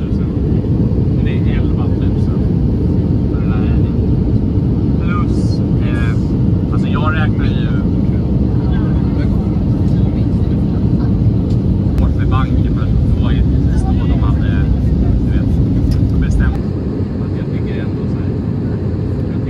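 Economy cabin of a Scandinavian Airlines Airbus A320neo descending toward Copenhagen Kastrup Airport, with a loud, steady low engine and air roar throughout and faint voices and small clicks over it.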